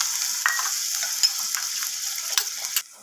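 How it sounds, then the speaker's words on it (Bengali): Frying spice masala in a pan for a Bengali fish curry, loud hissing sizzle as rinse water from the spice bowl is poured in, with a few sharp crackles and spits before the sizzle drops away at the end. "তো এখন আমি দিয়ে দিলাম এখানে মশলার বাটি ধোয়া জলগুলো।"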